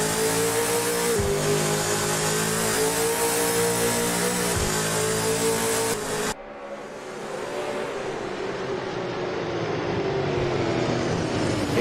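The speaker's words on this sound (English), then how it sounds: "The car's all out sideways as they come down the back straight for one more time." V8 Supercars race cars screaming past on the Perth circuit, a sustained loud engine roar at high revs that cuts to a more distant, lower drone as one car passes and another follows, no talk.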